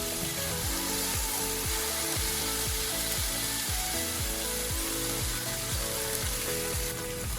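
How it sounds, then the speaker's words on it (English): Chicken with basil and tomato sizzling steadily in a hot pan during a stir-fry, a constant bright hiss running through the whole stretch beneath louder background music. "after a few minutes of stir frying, we're going to add the tomato in."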